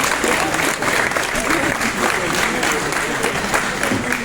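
Audience applause for a prize winner at a tattoo convention, a dense, steady wash of clapping from a crowd that stays loud throughout, with voices mixed in.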